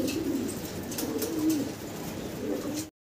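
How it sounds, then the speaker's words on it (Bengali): Lahori pigeons coo close by in soft, repeated low rolling calls, a steady murmur over a faint background with no talk. "মাশাআল্লাহ দর্শক আমরা আরো একটা চমৎকার জোড়া দেখতে পারতেছি, লাহোরি কবুতর ভাই"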